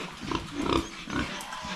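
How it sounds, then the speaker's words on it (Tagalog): Pigs in a pen, six fattening hogs kept in a single room, give soft low grunts and snuffles, with a couple of slightly louder bursts close by. "6 na lang yung baboy natin dito na patiling."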